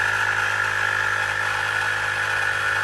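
An electric bike pump runs steadily while inflating a tire toward 80 PSI, giving a loud, continuous motorised drone with a buzzing hum that holds even throughout, with no talking over it.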